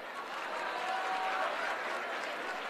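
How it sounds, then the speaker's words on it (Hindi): An audience at a literature festival session claps in a brief burst of applause, moderately loud and spread out, with faint voices underneath. "एक बार तालियां आपके लिए"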